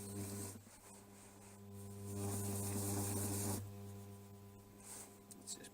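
A Chester Conquest lathe in low gear turns slowly while its cutting tool bites the edge of the workpiece, a steady motor hum under a rising, rasping scrape that swells in the middle and then eases off.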